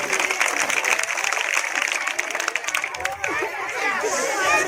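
An audience applauds the organisers of a village education programme, with dense, steady clapping blended with crowd chatter that carries on throughout and eases slightly near the end.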